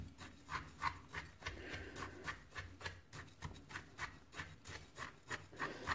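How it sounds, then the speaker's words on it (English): A chainsaw file rasps and rubs through soil around the roots of an apple bonsai being repotted in a garage, giving close, steady scraping strokes in a regular back-and-forth rhythm with no talking. "this is all I got is a chainsaw file. So that's what we're going to use."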